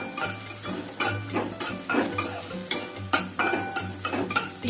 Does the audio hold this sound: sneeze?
no